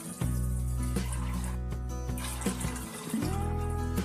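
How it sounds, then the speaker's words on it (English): Water pours steadily into a metal pressure cooker holding chana dal, a hollow, resonant rush that briefly pauses and then resumes; no speech. "Now add 2 cups of water"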